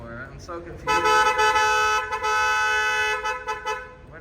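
A car horn blares in long sustained honks, loud and close, with a brief break before it resumes, after a short earlier toot; voices speak around it.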